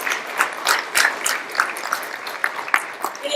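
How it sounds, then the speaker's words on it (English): Scattered, fairly light applause from a small group at a monthly committee meeting, uneven claps spread steadily across the moment with no voices on top. "I really think Carol alone deserves a very big round of applause for everything that she has done"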